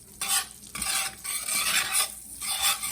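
Garlic sizzles loudly in a pan alongside a New York strip steak, a close crackling hiss that swells in bursts as it is stirred.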